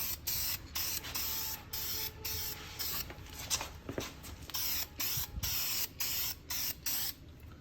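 Short bursts of aerosol spray coating mist onto Lexus RC F brake calipers, a close, soft hiss pulsing on and off in quick repeated sprays with brief pauses between.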